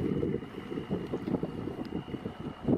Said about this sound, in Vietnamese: những chiếc ghe biển của đảo Phú Quý này cũng đang có tăng tốc khá là nhanh